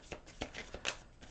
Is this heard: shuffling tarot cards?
yes